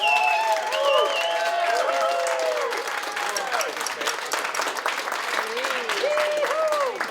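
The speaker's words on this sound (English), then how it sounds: "give them a warm applause" Concert crowd in Finland applauds and cheers as a French pianist is introduced, steady clapping from many hands with voices and whistles rising above it throughout.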